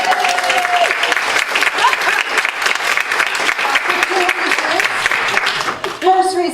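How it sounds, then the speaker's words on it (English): Congregation applauding Phil at a fellowship gathering, loud sustained clapping from a crowd with cheering voices and faint talk woven through it. "let's give Phil a round of applause"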